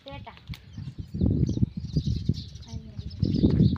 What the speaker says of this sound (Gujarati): જો મિત્રો આ કબૂતર છે